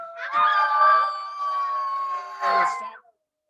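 A group of children howl together in imitation of coyotes, a sustained wavering chorus held for about two seconds, then a second shorter burst of howls before it cuts off.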